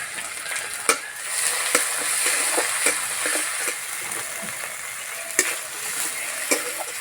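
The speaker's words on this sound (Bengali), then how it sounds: "পেঁয়াজ ভাজা হয়ে গেছে এবার দেবো আদা রসুন বাটা" Ginger garlic paste fries with browned onions in oil for a prawn cutlet mixture, a continuous close sizzle with sharp spatula taps and scrapes against the pan every second or so.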